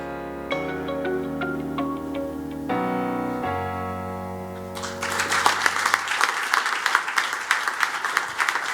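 Audience applause for a doctor receiving an award at a ceremony, breaking out after sustained music and swelling into dense, steady clapping that continues loudly to the end.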